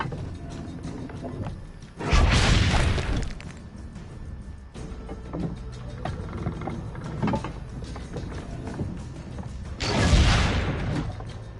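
Cannon fire in Assassin's Creed Brotherhood: two heavy booming blasts about eight seconds apart, each with a rolling decay, over quiet game ambience.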